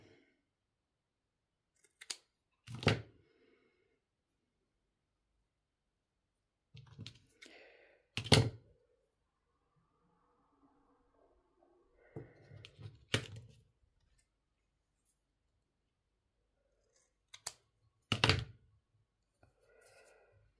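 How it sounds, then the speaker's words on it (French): Scissors make several sharp, separate snips while someone cuts paper for a craft, heard up close in short bursts spaced by long quiet pauses. "Je vais couper ça comme ça."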